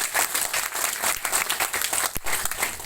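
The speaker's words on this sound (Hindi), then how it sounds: "एक बार ताली बजाओ" An audience at a Kangen water demo event in Bhopal claps together in a dense, steady round of applause, fairly close and even throughout.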